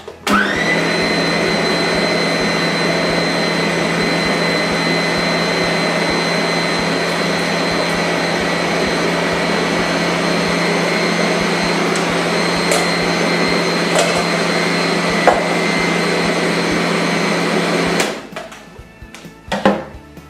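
A blender whizzes raw vegan cheesecake ingredients in one loud, steady, continuous run for about eighteen seconds, then cuts off abruptly, leaving brief faint clatter.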